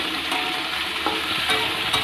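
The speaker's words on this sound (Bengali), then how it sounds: "তাই এর সাথেই একটু ভেজে নিচ্ছি" Brinjal pieces and dry red chillies fry in hot oil as a spatula stirs them, a steady close sizzle broken by a few scraping strokes, with no voices.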